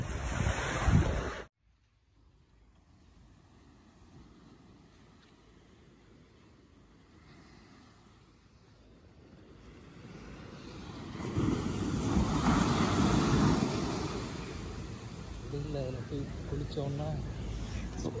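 Rough morning surf at Marina beach at sunrise, a steady wash of breaking waves with wind, building louder in the second half, with people talking in the background.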